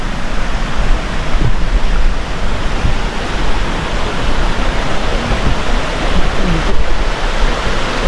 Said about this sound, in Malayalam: ഇതുപോലെ ഓരോ സ്ഥലത്തും ഇതുപോലെ അരുവിയാണ് കേട്ടോ